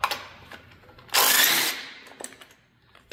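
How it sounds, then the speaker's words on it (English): A power tool or ratchet backs out bolts from the thermostat housing on a Volvo Penta 5.7 GSi boat engine, giving one loud whirring burst of about half a second amid quieter clicks and handling noise. "We're going to take the two bolts out."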